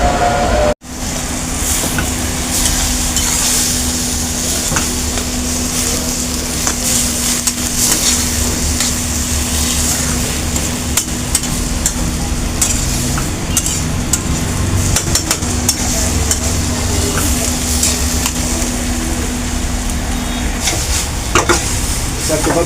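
Onions sautéing in a chatti pan give a steady, loud sizzle with scraping stirs and clinks throughout, a low hum running beneath, no one talking.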